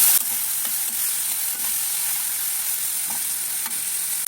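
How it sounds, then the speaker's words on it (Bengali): Prawns coated with turmeric and salt frying in hot oil with bay leaf, giving a loud, steady hiss with faint scattered crackles and no talk. "চিংড়ি মাছগুলো দিয়ে দিচ্ছি হলুদ লবণ দেওয়া চিংড়ি মাছগুলো একটু ভেজে"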